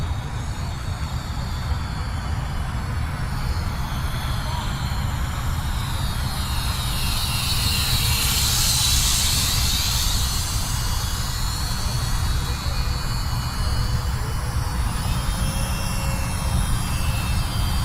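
RC Flyzone Fokker Dr1 model triplane at full throttle, a loud steady electric whine that swells as the plane passes close and then eases slightly, continuous with no talking.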